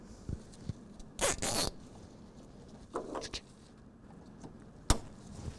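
A zip tie is ratcheted tight through a pad protector while fitting a retractable bed cover on a 2025 RAM 1500, with several short zipping bursts separated by quiet handling noises.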